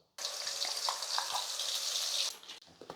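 Ground masala paste with cloves hits hot oil for an egg kulambu, bursting into a loud, bright sizzle that holds for about two seconds, then drops off abruptly.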